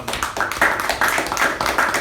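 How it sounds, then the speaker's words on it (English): Brief, close clapping from a small audience at a Toastmasters meeting, a few hands patting in quick irregular rhythm for two seconds. "Huge round of applause for Toastmaster"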